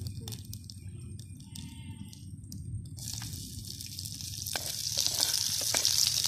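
Onion frying in a clay pot after mustard seeds have popped, for a vermicelli dish: a low, quiet crackle that swells into a bright, steady sizzle partway through, with a few stirring clicks, close by.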